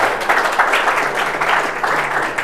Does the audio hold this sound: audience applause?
yes